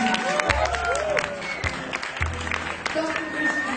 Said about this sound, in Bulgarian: Моля вашите искрени и силни аплодисменти